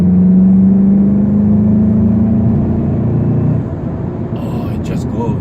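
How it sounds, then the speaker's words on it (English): A VW Golf GTI engine revs up loudly in Sport mode under acceleration, its drone climbing and holding steady before easing off, with a faint clatter near the end. "See, it's in Sport now, and immediately the revs have climbed"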